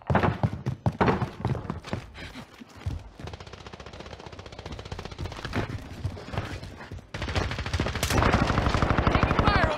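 Sustained rapid bursts of PPSh-41 submachine gun fire in the online shooter Call of Duty: Warzone, loud and close, with short gaps between volleys and a denser stretch of firing near the end.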